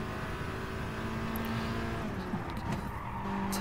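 A VW Scirocco Gr4 race car at Brands Hatch in GT Sport, its engine droning steadily at full throttle with a brief tire squeal partway through, continuous and close.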